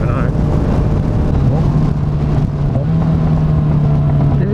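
A 2012 Yamaha FZ6R motorcycle engine drones loudly and continuously while the rider downshifts, its pitch stepping and wavering under heavy wind rush, with a voice briefly audible.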